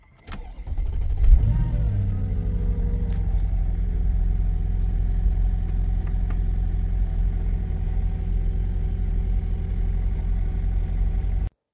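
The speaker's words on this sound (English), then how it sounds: "Let's start up the engine." A Mercedes M113 V8 engine cranks and fires at dusk after a hydrolock scare, catching with a brief rev flare before settling into a steady, deep, close idle rumble that holds to the end.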